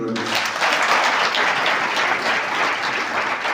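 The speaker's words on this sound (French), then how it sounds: "Vous pouvez applaudir l'OMS." Loud, sustained applause from a sizable audience at the WHO 75th anniversary launch event in Côte d'Ivoire, a steady wash of clapping throughout.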